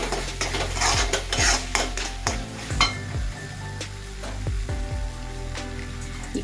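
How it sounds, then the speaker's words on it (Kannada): A spoon stirs mashed tomato gravy in a pan, with repeated sharp metallic scrapes and knocks against the pan over a soft background sizzle, close by and with no talking. "ಚೆನ್ನಾಗಿ ಮಧ್ಯ ಮಧ್ಯ ತಿರುಗಿಸ್ಕೊತಾ ಇರಿ"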